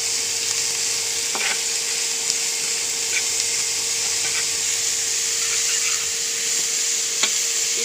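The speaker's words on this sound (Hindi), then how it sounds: "प्याज हुण आपां पूरा चंगी तरह भुन लैणे।" Onions for paneer bhurji fry in a pan with a soft continuous sizzle, broken by occasional light clicks and scrapes of stirring.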